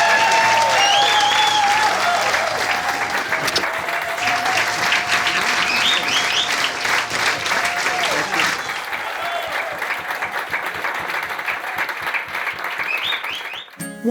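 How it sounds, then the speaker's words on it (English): Studio audience breaking into loud, sustained applause for a talk-show guest, with cheers and whoops rising over the clapping and music briefly audible underneath before it tapers off near the end. "Give him a big round of applause,"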